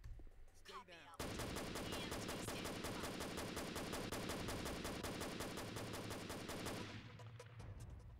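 Sustained rapid automatic gunfire from the PC game CTU: Counter Terrorism Unit: after a brief quiet lead-in, a dense, loud stream of shots runs for about six seconds before cutting off.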